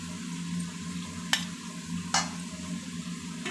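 Yogurt and masala for raw jackfruit biryani being stirred in a pot, a soft continuous sizzle-like hum broken by two sharp spoon clinks against the vessel, close and moderately quiet, no speech.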